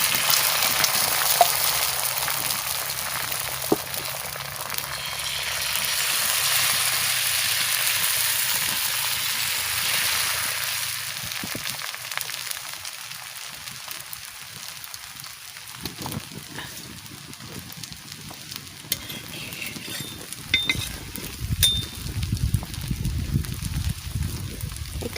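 Beaten egg frying in a pan for an egg roll hisses with a steady, loud sizzle, with occasional clicks and scraping stirs, and the sputter grows rougher toward the end.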